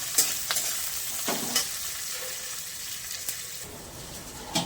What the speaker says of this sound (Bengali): এবার পেঁয়াজটা ভালো করে ভাজা হবে